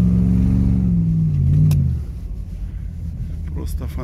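A Lada Niva engine runs close by and is heard through an open car window. It holds a steady, humming idle that sinks in pitch, then drops to a rougher, quieter rumble.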